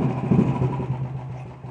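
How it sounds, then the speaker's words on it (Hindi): Red and black Royal Enfield Thunderbird 350X BS4 motorcycle engine running while ridden, a steady, close, low rumbling drone with slight pulsing and no talking. "तो ये जो मैं बाइक चला रहा हूँ वो है थंडरबर्ड 350X BS4 एडिशन वाली है"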